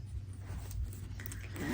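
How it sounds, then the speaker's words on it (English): A short metal zipper run along a handmade sewn zipper pouch, close and steady over a low hum, with no talking. "Zipper works just like it does on any of my zipper pouches."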